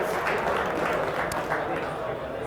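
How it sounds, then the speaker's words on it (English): Steady, dense applause from a group gathered for a week six session meeting fills the whole stretch at an even level, with no clear breaks. "Give yourselves a round of applause."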